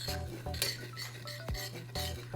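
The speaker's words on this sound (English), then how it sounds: "now what we need to do is we're going to stir this" A metal utensil stirs biscuits and gravy in a pan, making a steady rhythm of close scraping and clinking strokes about every half second.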